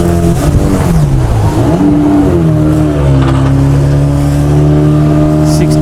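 A speedboat engine racing at high speed on the water in Goa, a loud, close, continuous roar whose pitch dips and rises, with voices talking over it.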